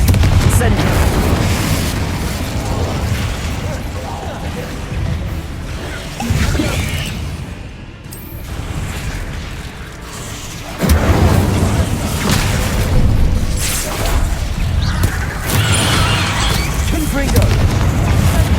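An Incendio fire spell in Hogwarts Legacy goes off in loud whooshing bursts and deep booms amid continuous game combat noise, with a voice calling out spell names.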